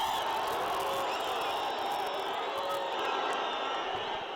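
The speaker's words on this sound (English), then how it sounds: "Now the crowd getting involved." A large crowd at a football stadium during a World Cup qualifier between Ethiopia and Lesotho keeps up a broad, sustained roar with faint whistles and shouts rising above it, heard from a distance.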